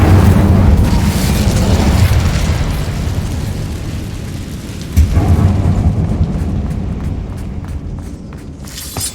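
The Incendio fire spell cast in Hogwarts Legacy gives a loud, heavy roaring rumble that slowly fades. A sharp burst near the middle sets off a second rumbling swell, which trails away with faint crackles.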